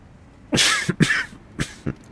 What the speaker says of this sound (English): I don't mean to cough in your ear.